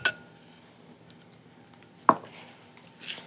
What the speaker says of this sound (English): I'm going to stir in 1 cup of granulated sugar